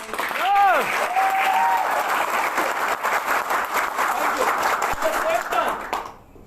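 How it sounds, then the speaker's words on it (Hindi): Loud applause rises from the audience at a leadership meeting and holds as a dense, sustained clatter of clapping for about six seconds. A voice is heard briefly near the start. "एक जोर से ताली"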